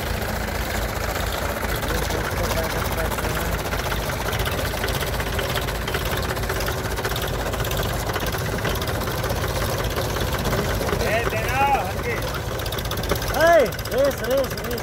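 Mahindra 575 tractor engine running hard in a tug-of-war contest against another tractor in Meerut, a steady low rumble with knocking throb, under excited shouting from a crowd nearby.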